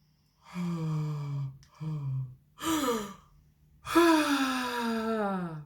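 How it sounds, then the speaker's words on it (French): Yawning during a morning breathing exercise, several long drawn-out vocal yawns and sighs in a row with pauses between, close and clear in a quiet room. "on commence à avoir envie de bâiller. Et bâiller."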